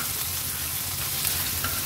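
Steady, close crackling sizzle of pomfret fish pieces frying in hot oil in a pan, continuous and even throughout with no voices.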